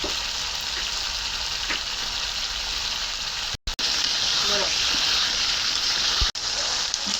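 Beef dropped into a hot pan of spice paste with green chillies for a Bangladeshi beef bhuna, hissing and crackling loudly and steadily, broken by a brief cut-out, with faint stirring beneath.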